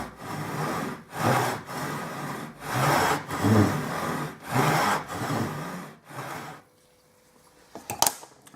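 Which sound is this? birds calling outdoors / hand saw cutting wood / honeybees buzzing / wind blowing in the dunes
hand saw cutting wood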